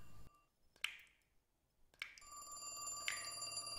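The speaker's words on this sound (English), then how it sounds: "I didn't even hear the phone ring at first, but then I heard it loud and clear" A telephone rings in The Cat Lady horror video game: a faint click and chime, then a steady electronic ring that sets in and continues quietly to the end.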